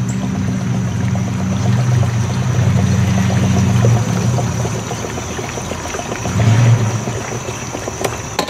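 Green two-stroke fuel pours into the tank of a Thruster 700 motorized bicycle with a Luiji 80cc engine, a loud, close, continuous gurgling stream that surges near the end, with no talking.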